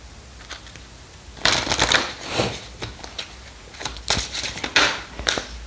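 Playing cards shuffled during a card reading, several bursts of riffling and snapping cards close by, alone with no talking.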